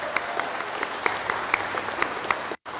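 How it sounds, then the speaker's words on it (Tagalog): Thunderous applause from an audience at the launch of a Malasakit Center in Marinduque, a steady dense clatter of clapping that carries on loudly and cuts off abruptly near the end. "isang dumadagundong na palakpak, Senator Bongo!"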